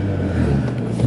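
A car pulls away in first gear on snow after a clutch kick, its low engine rumble steady and close with a slight rise toward the end.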